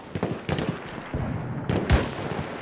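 Gunfire in the video game Battlefield 1: a string of sharp, spaced shots with one heavier blast near the end, fairly close and punchy over a low background rumble.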